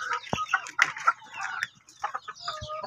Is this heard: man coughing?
no